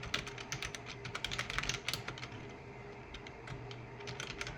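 Fast, light keystrokes on a computer keyboard come in bursts, close and clear, with a brief lull before the typing resumes.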